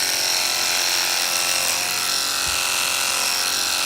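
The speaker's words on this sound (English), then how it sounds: "I'll go over it a couple different ways so that I get the full hair off, or the length that I have on my clipper blade" Electric clippers running continuously over a horse's coat, a close steady buzzing whir with slight changes in tone as the blade moves through the hair.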